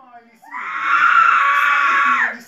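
A person screams loudly in one long, sustained high-pitched cry lasting about two seconds, close and alone, during a Turkish television ad break before the news.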